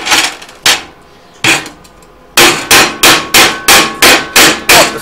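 A hammer chips slag off a gasless flux core weld: sharp, close metallic strikes, first a few widely spaced blows, then a steady run of about eight quick, even hits.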